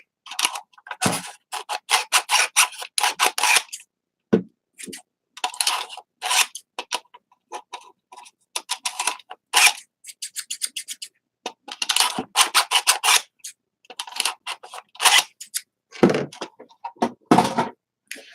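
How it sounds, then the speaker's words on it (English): Rapid, repeated metallic scraping strokes of scissors being sharpened, in short bursts with brief pauses between, close and fairly loud, no talking. "Sharpen my scissors real quick."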